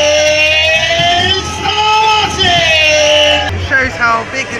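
A large outdoor crowd cheers, whoops and shouts continuously at the unveiling of the Man Engine machine, loud and sustained, with yells rising in waves.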